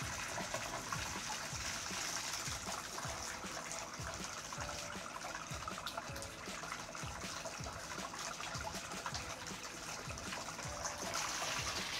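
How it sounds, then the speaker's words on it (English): Water runs steadily from a Delta T17T series faucet into a glass holding a thermometer, a soft continuous trickling splash at low volume with no talking. "the water into a glass that I have a thermometer stuck in."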